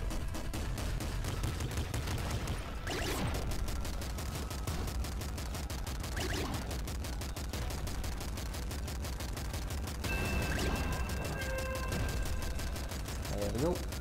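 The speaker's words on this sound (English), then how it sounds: "Pop some heavy machine gun into you." Heavy machine gun fire in the game Nuclear Throne, with bursts of rapid shots layered over a constant loud game soundtrack, a few sharper reports standing out across the stretch.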